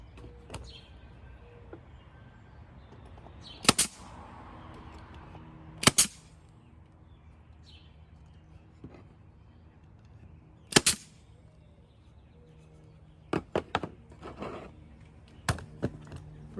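Sharp, isolated pneumatic nail gun shots fire in a quiet workshop during a front pillar base repair, about eight loud cracks spaced irregularly with some in quick pairs.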